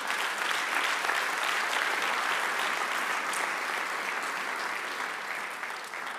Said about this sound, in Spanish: Dale un aplauso a nuestro Dios.